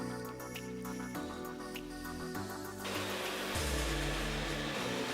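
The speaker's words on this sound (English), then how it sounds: "finishing off with a bit of a heat gun" A heat gun borrowed from a hair dryer blows steadily while shrinking heat shrink tubing on a smart bike handlebar, a continuous airy whoosh with hum that shifts in pitch and grows louder and rougher partway through.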